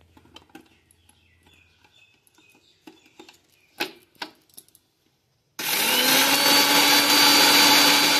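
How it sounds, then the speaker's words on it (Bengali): Puffed rice is ground in an electric grinder for homemade papad. Quiet clicks and taps come first, then a brief pause, and then the motor kicks in with a loud, steady whirring roar that runs to the end. "এর সঙ্গে আরো আমি মুড়ি দিয়ে দিচ্ছি। আবারও পিষে নিচ্ছি।"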